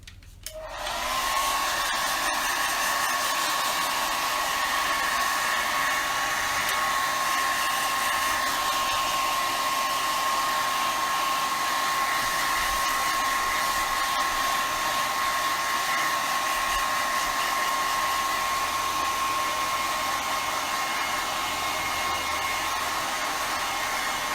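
A hair dryer runs continuously to dry a coat of paint on a Dollar Tree craft scale, kicking on sharply at the start then blowing with a steady high whine and airy rush, close and loud, with no talk.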